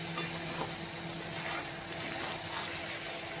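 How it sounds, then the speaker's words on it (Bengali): A semolina and cauliflower muri ghonto is stirred in a pan, giving a faint, steady scraping and soft sizzle close by, with a low background hum and no talking. "নেড়ে চেড়ে দিই বন্ধুরা"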